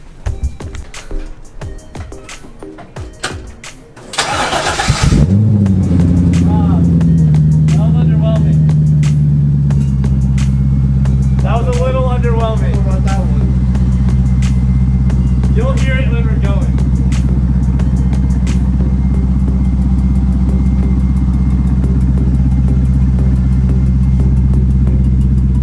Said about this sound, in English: we need to film a cold start for the boys real quick